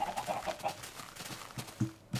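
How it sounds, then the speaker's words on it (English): Minecraft chickens cluck in a short series of soft, quiet clucks and chirps near the start, followed by a few scattered low thumps in the game. "Oh, a chicken. Hello, chicken."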